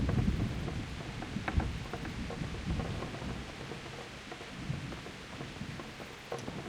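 Rainstorm in the game Kingdom Come: Deliverance: constant hiss of rain with deep thunder rumbling strongest early then easing, scattered droplet ticks throughout, heard alone without speech.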